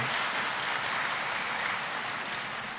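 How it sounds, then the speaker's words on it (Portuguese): A church congregation applauds the Scripture reading, a continuous, even wash of clapping at moderate distance with no pauses. "Vamos aplaudir a palavra de Deus"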